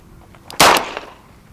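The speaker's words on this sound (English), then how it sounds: "shoot 5 rounds with it in double action, okay, and then 5 rounds in single action. So shoot 4 more rounds" A single sharp gunshot from a Smith and Wesson 638 revolver on a shooting range, loud and close, with a short decaying echo after it.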